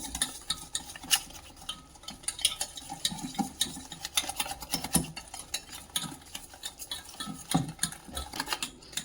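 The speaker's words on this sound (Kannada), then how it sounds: "ಎಲ್ಲ ಮಿಶ್ರಣ ಮಾಡ್ಕೋತೀನಿ" A spoon stirs and mixes chicken with kabab masala and turmeric powder in a bowl, giving soft, repeated wet scraping and clinking strokes at close range, steady and fairly quiet throughout.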